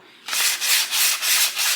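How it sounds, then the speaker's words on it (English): Sandpaper rubs lightly over a wooden bowl in steady back-and-forth strokes, a bright, hissing scratch pulsing in an even rhythm close by. "I'm just going to very lightly rub this sandpaper on the bowl"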